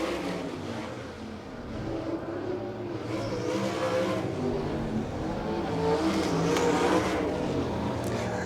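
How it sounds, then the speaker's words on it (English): A sprint car engine roars down the front stretch with an uneven, stuttering note, its misfire breaking up the steady drone of racing engines. "you could hear the misfire as he went down the front stretch"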